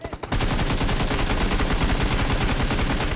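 Automatic gunfire in the game PUBG Mobile erupts after a brief pause: a loud, continuous rapid burst of shots at an even fast rhythm lasting about three seconds, close and dominant, with no speech.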